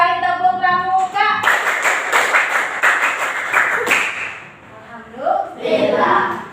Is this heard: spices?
no